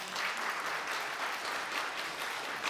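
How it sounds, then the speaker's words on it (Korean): An audience at a Korean real estate market lecture claps steadily for the lecturer, a dense, even wash of applause from a moderate distance with no voices over it. "박수 부탁합니다."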